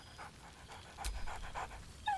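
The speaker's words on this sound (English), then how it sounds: "Scratch barks merrily in something like agreement." Scratch, a dog in the video game Baldur's Gate 3, pants in quick, soft rhythmic breaths up close, ending with a short, higher yelp-like sound.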